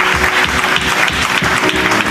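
A church congregation applauds during a service, with dense, steady clapping from many hands filling the whole stretch at close range.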